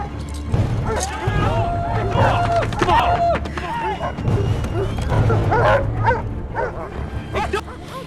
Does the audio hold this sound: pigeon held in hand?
no